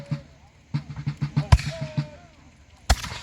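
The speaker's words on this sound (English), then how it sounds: "And the 54th, being British regulars, fire a perfect volley." British regular reenactors of the 54th fire a musket volley at a battle reenactment, giving one loud, sharp bang mid-clip and another later, amid people talking.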